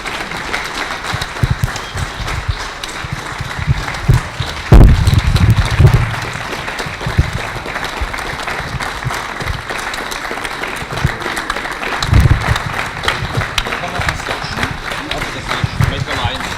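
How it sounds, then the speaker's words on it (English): A conference audience at the CIRCOM regional annual conference applauds trainees finishing their courses, a sustained patter of clapping with a few louder thumps and bursts, with voices and room noise mixed underneath. "all you trainees, and take a round of applause"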